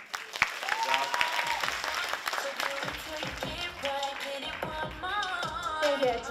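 Audience applause at a student club anniversary performance in a hall, a dense, steady wash of clapping with some shouts and cheers, close and loud throughout.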